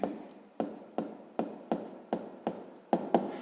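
A pen scratches out a sixth-grade maths exercise by hand in a notebook, eight short strokes or words tapping down at a steady, regular pace, close and quiet.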